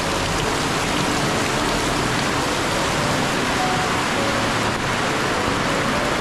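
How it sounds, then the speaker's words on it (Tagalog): Heavy rain pours down steadily at close range, a dense unbroken hiss with no pauses and no voices. "kung ano ang sitwasyon nila pag ganitong malakas ang ulan"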